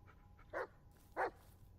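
A dog gives two short, sharp barks about half a second apart while a player in the Blair Witch video game praises it, each bark fairly near and clear over a low background hum.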